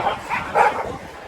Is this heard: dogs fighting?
yes